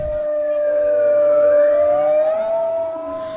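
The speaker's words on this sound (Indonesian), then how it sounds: "penekanan tombol sirine" A loud, steady siren wails continuously with a slowly rising and falling pitch, sounding close by with no talking, set off by a button press at the opening of a road safety festival.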